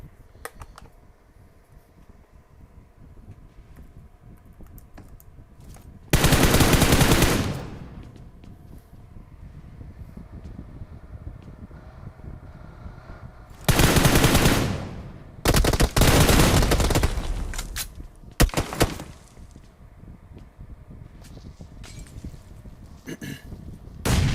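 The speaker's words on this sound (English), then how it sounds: "In the building, hearing all those shots." Bursts of gunfire in a battle royale video game match, several loud volleys of rapid shots separated by quieter stretches of background game noise.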